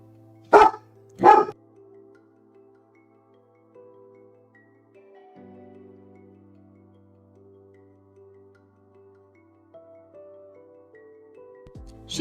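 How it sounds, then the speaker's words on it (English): Two loud, sharp dog barks close by, then a quiet stretch with faint low humming tones in the background. "She's like still searching for food whilst barking."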